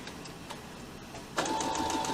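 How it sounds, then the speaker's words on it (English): A sewing machine stitches around the outside edge of a fabric face mask, its motor starting up partway through and running in a steady, fairly loud whir with a faint high tone over a low room hum. "So we're just stitching around the outside."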